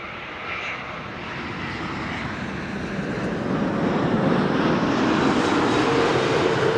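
IndiGo airliner passing by at Amsterdam Schiphol Airport, a broad steady jet roar that builds gradually and stays loud and fairly close throughout, with no talking over it.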